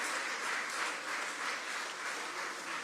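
Applause for the vice-president at a solemn investiture ceremony in Côte d'Ivoire, a dense, even wash of many hands clapping, steady and somewhat distant, with no talk.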